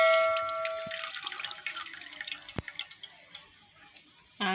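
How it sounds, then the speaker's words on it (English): Cooking oil is poured into a pot for frying chicken. A brief ringing tone is followed by an irregular run of close drips and splatters, and a sudden louder burst comes at the end. "now the first thing I'm gonna do is to pour the oil in the pot"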